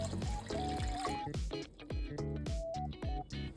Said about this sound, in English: I add 180 grams sugar and 200 grams water.